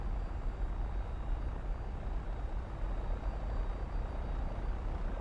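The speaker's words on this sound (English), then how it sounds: "X-Plane thinks there's a Cessna 172 to the right of us, or left of us, and has given us a Cessna 172 sound" A Cessna 172 engine drones at a steady, broadband hum in X-Plane 11, heard from a Citation II cockpit, continuous and moderately loud with no voices.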